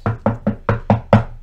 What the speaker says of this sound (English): And you knock on the door